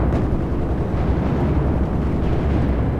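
Explosions in Battlefield 4 multiplayer, a heavy rumbling barrage of blasts and artillery booms rolling continuously at high volume with no talk over them.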